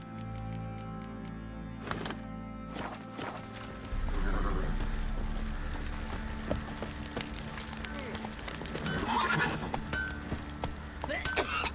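A horse gallops and neighs in The Witcher 3, with hoof clip-clops and a whinny amid game ambience, followed by rapid running hoofbeats at moderate loudness, under occasional background voices.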